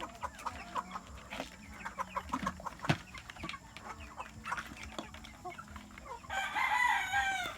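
Free-range Rhode Island Red, Ayam Cemani and Brahma chickens cluck sporadically nearby, then a rooster crows loudly at the end.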